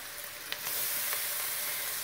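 Onions sizzle steadily in a pan as they soften for a peas and paneer dish, a continuous close frying hiss with a couple of brief louder crackles and no talking.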